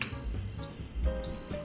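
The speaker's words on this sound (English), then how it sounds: "As soon as it beeps, you know that the process has started" A single high electronic beep from an Instant Pot pressure cooker rings out, steady and clear, then stops and sounds again after a short pause, over a low background hum.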